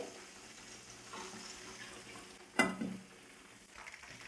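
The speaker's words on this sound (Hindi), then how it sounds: "इसी तरह हम जो बाकी चिकन रह गया था वो भी फ्राई कर लेंगे।" Chicken pakora deep frying in oil gives a faint, steady sizzle with one sharp, louder splash and crackle partway through that fades back into the quiet bubbling.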